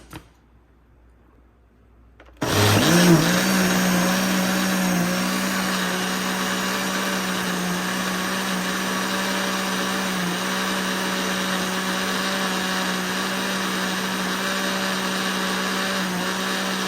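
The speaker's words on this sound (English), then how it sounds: "now let's blend it up one more time" Blender whirring through homemade almond milk with honey, starting abruptly after a quiet moment, then a loud continuous motor drone that settles to a steady pitch.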